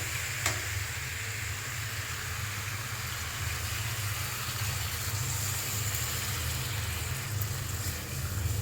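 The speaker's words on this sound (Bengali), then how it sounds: "এই যে গরম জল দিয়ে দিলাম" Hot water goes into a pan where tomato and vegetable stems are cooking, and a steady bubbling sizzle carries on close by under a low background hum.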